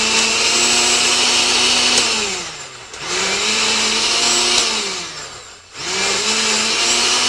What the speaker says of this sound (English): Now we're going to osterize this, or blend it properly, grind it up, and we'll have a nice paste for our fish.